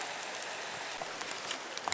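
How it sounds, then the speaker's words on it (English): Light rain falling outdoors near water at a trapping site, a soft, continuous patter with scattered sharper drops toward the end, faint and steady with no talking. "we're supposed to get some rain, and obviously we are"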